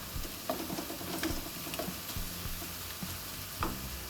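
Softened onions and asafoetida fry in a pan for a yam (chena) masala, giving a quiet, steady sizzle broken by a few soft scrapes and taps of stirring.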